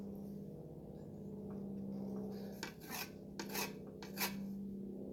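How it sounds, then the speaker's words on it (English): A shovel blade is rubbed against the rough unglazed base of a ceramic coffee cup, giving close, quiet rasping strokes over a low hum, with several sharper scraping passes toward the end. "I want you to sharpen your shovel"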